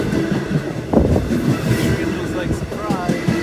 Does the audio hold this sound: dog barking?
no